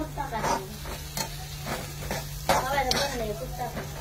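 Food sautéing in a pan with a steady sizzle and repeated scraping stirs of a spoon, with a voice speaking over the cooking.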